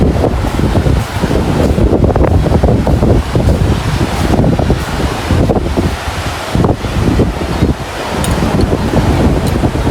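Strong wind buffets the microphone on Mandarmani sea beach as waves roll and wash in, a loud continuous roar with gusting surges and no voices.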